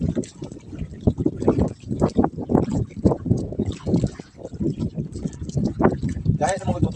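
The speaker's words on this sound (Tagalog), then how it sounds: "Tak-tak pa rin ang motor mga ka-idol." A small motorized boat's engine keeps running on the water during a seaside town fiesta, its chugging mixed with wind and splashing while people talk loudly over it.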